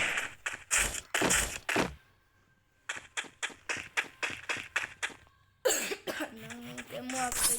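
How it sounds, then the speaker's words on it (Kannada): A person with a cold coughs repeatedly indoors. A quick string of harsh, close coughs comes first, then a pause, then another rhythmic run of coughs, and a brief voiced sound follows. "ಕೆಮ್ಮು ಆಗ್ತೈತೆ ಗೈಸ್."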